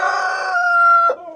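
A hen in a chicken coop gives a single drawn-out, tonal call that breaks off into a short cluck at the end, close and clear, with no other sounds.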